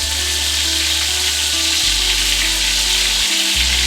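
Pork chops fry in a pan as butter is spooned over them, a loud, steady, close sizzle with a low hum running underneath.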